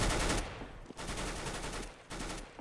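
Sustained automatic FAMAS rifle fire in Counter-Strike: Global Offensive, loud, dense bursts running nearly without pause, broken by two brief gaps.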